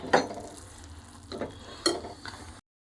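A spoon stirs bisibele bath in a pot, making a few scraping, thick squelching strokes against a soft sizzle, with no one talking.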